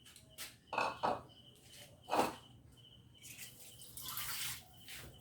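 Water is poured into a cooking pot while preparing sautéed squid with white squash. It comes in several short splashing bursts, fairly quiet over a faint background hiss.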